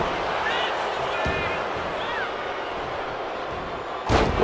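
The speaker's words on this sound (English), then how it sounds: "Gunther now with the knee to the face." In a WWE 2K wrestling video game match, Gunther drives a knee into Ray's face, landing as a short, heavy thud near the end, with a duller thump earlier, under constant excited commentary.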